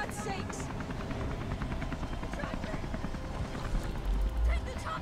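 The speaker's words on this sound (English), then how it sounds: "The chopper. I'll try the chopper." A helicopter in the video game Beyond Two Souls whirs with a steady rhythmic rotor chop throughout, while a player talks over it.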